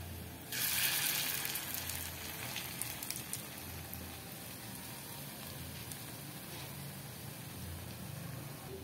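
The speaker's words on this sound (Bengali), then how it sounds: "তো বন্ধুরা দেখো তেলটা গরম হয়ে গেছে, এবার আমি এগুলোকে ছেড়ে দেবো বড়াগুলোকে।" Lentil and pumpkin fritters drop into hot oil and break into a sudden loud sizzle, which then settles into steady crackling and bubbling frying, close by and with no talking.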